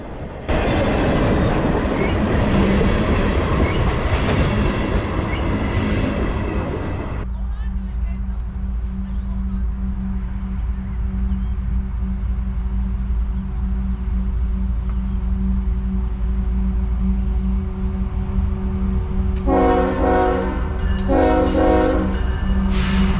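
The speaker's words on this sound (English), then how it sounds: "So got a couple more nice manifest trains to come here" A heavy freight train, a CSX manifest train, rumbles past close by, with a steady low roar and rhythmic clatter of wheels, and brief horn blasts near the end.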